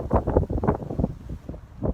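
Blustery wind buffets the microphone in uneven gusts, a loud low rumble that swells and dips throughout with no voices.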